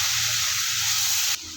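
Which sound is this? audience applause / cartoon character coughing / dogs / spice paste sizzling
spice paste sizzling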